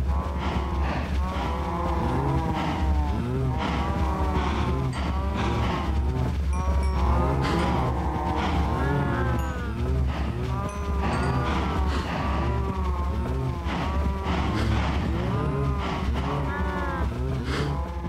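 Blocky cows in Minecraft moo over and over, the calls overlapping in a dense, continuous chorus from a pen of livestock, heard without any talking.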